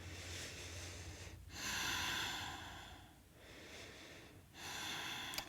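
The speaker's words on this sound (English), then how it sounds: "Ujjayi breath." Ujjayi yoga breathing in a power yoga session, slow, soft, ocean-like breaths drawn in and out through the throat, roughly three long cycles, faint and close.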